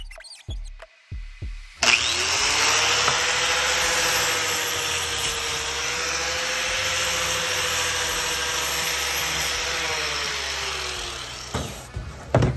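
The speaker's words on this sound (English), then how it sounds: "I'll show you it grinds right off" An abrasive wheel grinds the surface texture off a Garrett turbo compressor cover, running as one loud, steady whine for about ten seconds, with brief clicks and bumps before it spins up and as it winds down.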